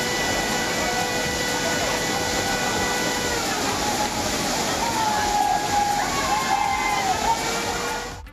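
A flash flood surges through Courtallam waterfall, a loud, steady roar of rushing water with heavy sloshing that fills the whole stretch without pause.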